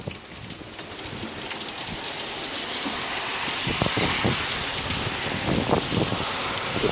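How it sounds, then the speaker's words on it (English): Wind-driven rain from Hurricane Dorian lashes down in Halifax, Nova Scotia, a steady loud hiss of rainfall with gusting wind and rumbling microphone buffeting, building slightly throughout with no speech. "Wow, the windy rain."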